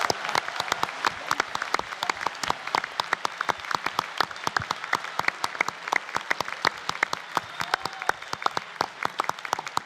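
An audience at a national middle school science bowl final claps for the winning teams, a lively round of individual hand claps, moderately loud and fairly steady for around ten seconds with no voices over it.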